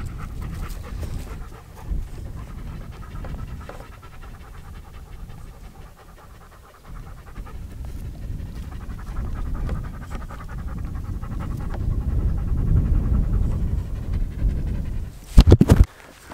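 A dog pants steadily and rapidly close to the microphone at an outdoor shooting range, a soft continuous rhythm of breaths that ends in a brief loud knock near the end.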